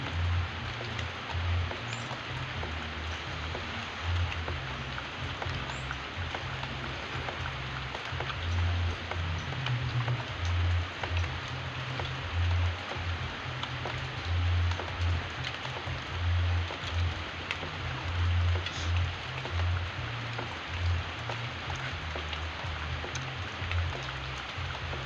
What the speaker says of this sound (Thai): ฝนตกพี่น้องตอนนี้ฝนตกง่าย